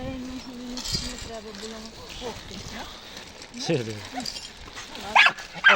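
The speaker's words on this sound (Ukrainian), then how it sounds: "не гавкай" A dog, a stray living at a rubbish dump, barks and yips in short bursts close by, with louder sharp barks near the end, while a person talks over it.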